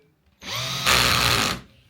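A cordless drill switched to forward whirs as its chuck spins to tighten the bit, starting softly, then rising to a louder, higher whine for about a second before stopping; no voices.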